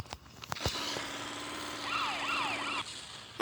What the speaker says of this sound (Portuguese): Ah, acho melhor deixar com a sirene ligada.